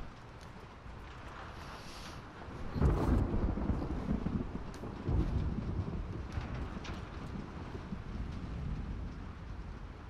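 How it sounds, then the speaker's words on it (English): Steady rain hiss with low rumbles of thunder swelling around the middle in The Last of Us Part II, continuous and moderately loud, no voices. "I think it's just the rain and the thunder in the game."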